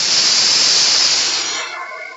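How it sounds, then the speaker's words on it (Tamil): A pressure cooker vents steam while mutton cooks, giving a loud, continuous close hiss that holds steady and then fades and thins toward the end. "ஒரு 5-6 விசில் இப்பதான் மட்டன் நல்லா வெந்துடும்."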